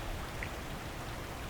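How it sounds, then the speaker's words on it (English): Rain patters steadily on the surface beside a fishing lake, a soft continuous hiss with no voices. "it's started to rain"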